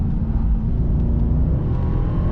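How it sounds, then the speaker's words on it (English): A 2023 Maybach GLS 900 Brabus Rocket downshifts and accelerates, its turbocharged engine giving a loud, continuous low roar and whir that is heard from inside the cabin. "As soon as you downshift and accelerate, you have this sound, the Brabus turbochargers."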